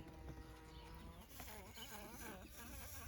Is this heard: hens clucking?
no